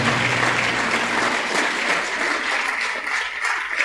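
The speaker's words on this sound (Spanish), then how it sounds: "Dele palmas al Señor" A church congregation clapping together, a dense, sustained wash of applause with a low hum beneath that fades partway through.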